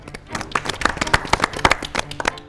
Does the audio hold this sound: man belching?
no